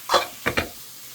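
Egg being stirred into yam flower thoran frying in a pan in a Kerala kitchen: a short scrape, then two quick stirring strokes, close and moderately loud with a faint sizzle beneath.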